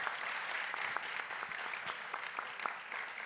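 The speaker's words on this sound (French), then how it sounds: "Je pense qu'on peut l'applaudir très chaleureusement" Steady, dense applause from a crowd of many hands, even and sustained throughout, heard from a moderate distance.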